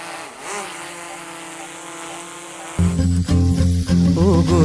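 A DJI drone flies with its propellers buzzing in a steady, close, high-pitched whine that jumps to a louder, harsher buzz partway through.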